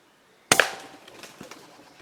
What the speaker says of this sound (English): You hear a pigeon nearby flying off.